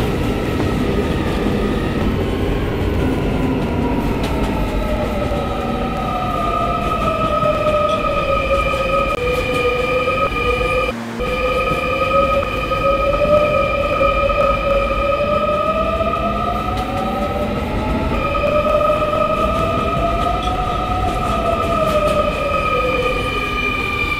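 An R220S 7 express subway train runs in a Roblox game, a steady loud electric motor whine with rising and falling pitch over a constant rumble of wheels on track, with one brief dropout midway.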